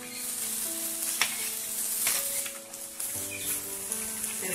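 Achu murukku rose cookies fry in hot oil with a steady close sizzle and soft bubbling crackle, faint tonal sounds drifting in the background.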